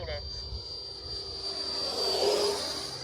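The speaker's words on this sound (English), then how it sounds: "Good sounding plane." A Freewing L-15 jet-powered model plane whines steadily overhead, its high-pitched turbine tone rising and swelling as it passes closer, with faint voices in the background.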